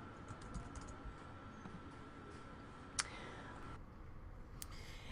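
Quiet computer keyboard typing while entering a new title for a Google Docs presentation: soft, quick key clicks in irregular bursts with one sharper click near the middle, faint and alone.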